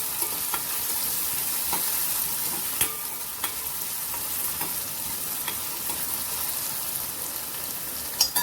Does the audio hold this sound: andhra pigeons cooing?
no